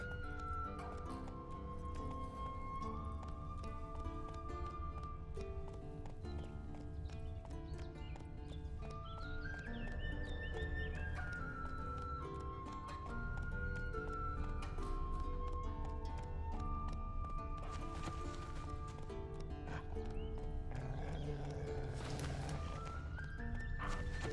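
Rhythmic hoofbeats of a galloping horse in The Witcher 3: Wild Hunt, with an occasional whinny, carry steadily under a full orchestral music score.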